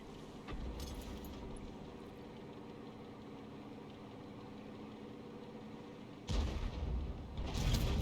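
An M53/M55 self-propelled artillery piece fires in a tank video game: a deep booming shot over a low engine idle hum, followed by a second heavy blast near the end.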